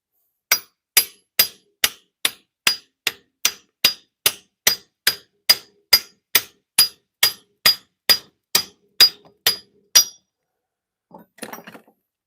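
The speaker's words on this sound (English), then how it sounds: "So I just need to hammer him a little bit more" A bearing is hammered into place, about twenty sharp metallic strikes in a steady rhythm, loud and close, followed by a short pause and a few lighter clinks.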